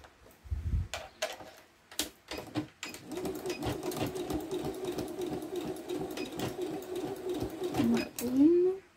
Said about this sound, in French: je les fixe à la machine. Je fais quelques points avant-arrière.